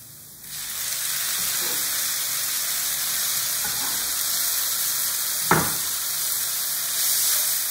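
Diced tomatoes and filling hitting a hot frying pan while making lahmajun, a steady bright sizzle that holds at moderate loudness, with a small clatter midway and a brief swell near the end.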